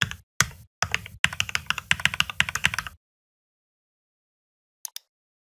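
Computer keyboard typing an email address, a quick run of close, crisp key clicks lasting about three seconds, then silence broken by two faint taps near the end.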